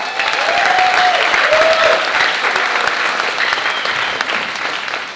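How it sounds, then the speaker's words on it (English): A graduation ceremony audience applauds the MCs with full, sustained clapping that fills the hall, close and even, while a brief tonal whistle or cheer rises above it early on. "Let's have a round of applause for our MCs."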